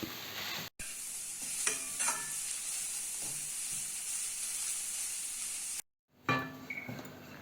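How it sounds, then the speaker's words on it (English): Ridge gourd peel sautés in a pan over a low flame with a soft continuous sizzle, broken by occasional spoon scrapes and two brief dropouts. "We will just saute this skin."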